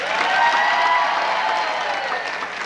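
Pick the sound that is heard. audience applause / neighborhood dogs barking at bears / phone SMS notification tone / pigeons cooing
audience applause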